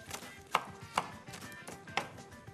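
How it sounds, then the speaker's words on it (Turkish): A knife chops chard on a board in a few sharp, irregular strikes, close and quiet, with soft rustling between cuts. "Pazarları ufak ufak doğramamız gerekiyor."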